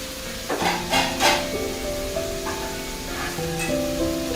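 Beef and onions sizzling in a hot pan, a steady close frying hiss with occasional stirring scrapes, under faint background music and no talk.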